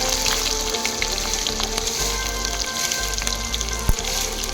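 Chopped onions and green chillies frying in hot oil with curry leaves for a Kerala-style chicken and fish curry, a steady dense sizzle and crackle throughout with a few sharper pops.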